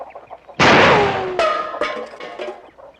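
Chickens break into sharp, agitated clucks and squawks right after a sudden loud bang, close by, with a few calls trailing off over several seconds.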